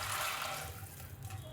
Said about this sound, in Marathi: 1 ग्लास पाणी ओतते।